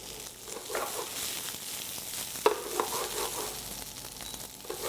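Vegetables and tomatoes frying in a hot pan, a continuous bright sizzle with a few crackles and stirring scrapes, close and moderately loud, no talking.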